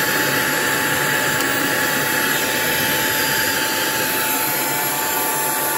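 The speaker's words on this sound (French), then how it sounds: "la vitesse du moteur, écoutez bien, ne change pas" A steady, loud electric motor whine at its first speed setting runs continuously with a constant pitch and airy rushing noise, no variation or pauses.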